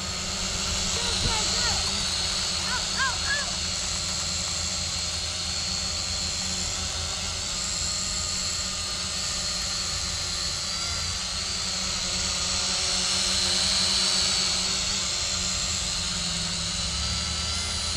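An Eachine E511 drone hovers outdoors in wind, its rotors giving a steady, fairly loud buzzing whine that holds throughout, with a voice talking over it now and then.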